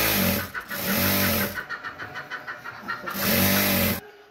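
A sewing machine stitches a petticoat in loud bursts of rapid whirring with a stuttering mechanical pulse between runs, close and with no voices.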